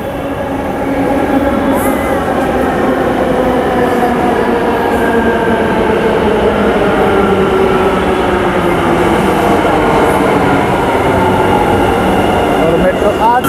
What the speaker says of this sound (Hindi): वो देखिए मेट्रो आ गई